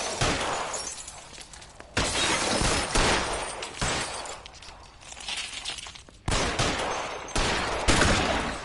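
Gunfire in L.A. Noire: repeated loud close gunshots in bursts, each sharp crack trailing off, spaced unevenly across a heavy firefight with no talk.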